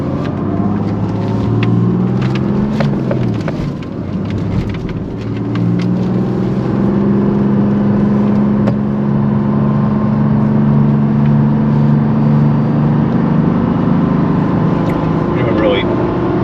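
A 1987 Mercedes-Benz 300SDL accelerates on a highway, its engine drone rising steadily under loud, constant cabin and road noise heard from inside the car.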